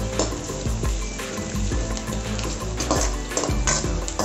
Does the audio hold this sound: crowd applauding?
no